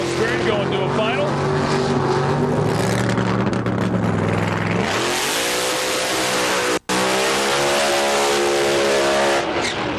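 Top fuel and pro modified drag racing cars at the 2005 IHRA Rocky Mountain Nationals, loud engines holding a rising pitch then climbing again after a brief cut, with commentary talk over the roar.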